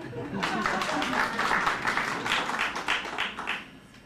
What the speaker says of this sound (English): Give yourselves a round of applause in that case.